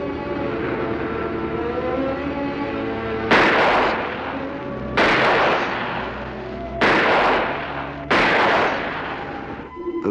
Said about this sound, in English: Those shots came so fast and so close.